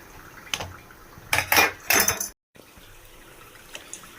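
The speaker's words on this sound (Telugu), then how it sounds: "ప్లేట్స్లోకి తీసుకుని మీకు ఏ షేప్లో కావాలితే ఆ షేప్లో కట్ చేసుకోవాలి" A utensil clinks and scrapes against plates while Mysore pak is cut into shapes: a single tap, then a few quick clattering bursts, followed by a quiet pause and faint small knocks.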